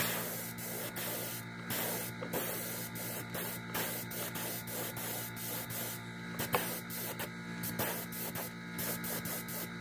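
An airbrush sprays flame orange paint onto the belly of a fishing lure, making a steady close hiss with short on-off bursts over a low mechanical hum.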